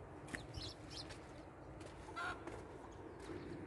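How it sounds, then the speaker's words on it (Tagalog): Chickens on a small farm in Saudi Arabia cluck in short bursts against a steady outdoor background, with a brief flutter; moderately close but not loud. "Uy, may manok."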